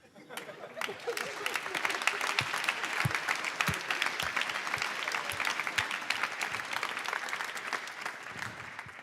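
An audience at an energy data hackathon applauds after a pitch, a lively, steady patter of clapping from a room of people that swells quickly and holds throughout with a faint voice beneath.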